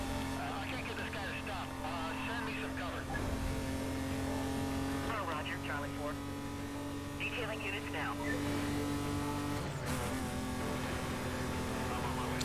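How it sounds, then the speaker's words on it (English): A racing car engine in Need for Speed: Carbon revs and shifts through gears with sustained whining tones, rising and dropping, while someone talks over it. "I'm not even paying attention to the revs, I'm just listening for it at this point."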